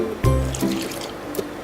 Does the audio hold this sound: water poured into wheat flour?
yes